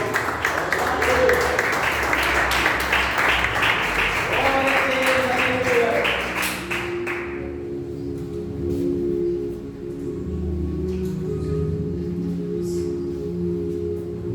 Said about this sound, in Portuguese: louvando a Deus com nossas palmas, bem forte